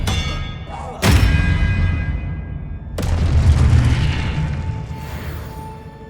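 Expelliarmus spell cast in Hogwarts Legacy on PS5, with two sharp, forceful impacts a couple of seconds apart, each followed by a deep rumbling boom that slowly fades.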